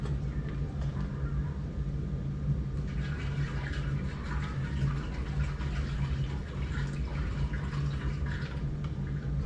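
Room-temperature tap water runs steadily into a container of yeast, a continuous pouring and filling sound with a low hum beneath it, near and moderately loud throughout.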